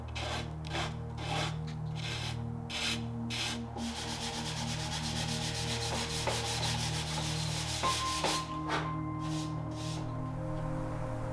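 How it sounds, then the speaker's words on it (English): Wood on a vintage 1960s mid-century modern credenza is sanded by hand, a close, soft rhythmic back-and-forth rasping over a steady low background hum. "I'll sand these gently and still attempt to stain them"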